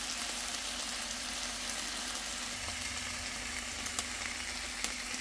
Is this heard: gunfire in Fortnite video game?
no